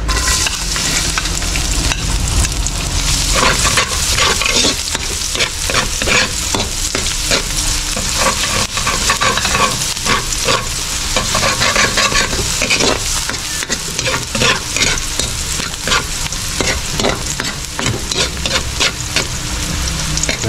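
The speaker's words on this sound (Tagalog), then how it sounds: "Gisa natin ito na maayos." Lots of garlic sautéing in a pan for pork menudo: a loud, close, continuous sizzle with frequent rhythmic stirring scrapes throughout.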